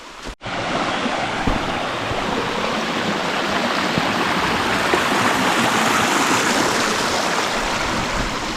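A mountain waterfall along a summer valley trail in Korea's Songnisan area roars in a steady, dense wash of rushing water, loud and continuous, with no voices after a brief opening noise.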